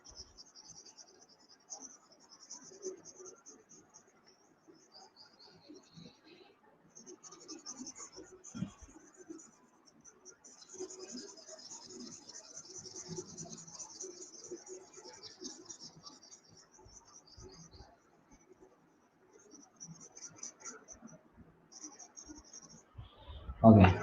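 Chalk or marker scratching across a classroom board during a live Class 10 trigonometry lesson, faint intermittent strokes running on and off over about twenty seconds with quiet room noise and a louder thump at the end.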